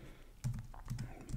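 Code typed on a computer keyboard during a Kotlin testing lesson, a few soft, close key clicks in quick irregular succession over a quiet background.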